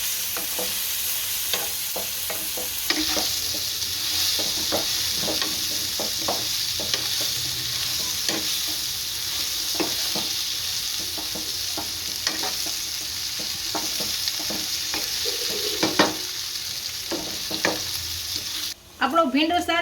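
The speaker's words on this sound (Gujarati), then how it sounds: "આને તેલમાં શેરવી નાખશું ખાલી।" Stuffed okra (bharela bhinda) sautés in oil in a home kitchen pan with a steady close sizzle and frying crackle, punctuated by repeated scraping stirs, and no talking over it.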